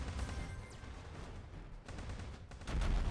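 Mortar shell striking in the Block Fortress video game, a sudden loud blast with a heavy low-end thump at the start and another big impact near the end, with booming gunfire-like rumble in between.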